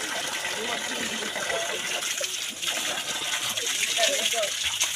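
Water wells up from below inside an underground bunker, a continuous gushing and splashing flow under a person talking.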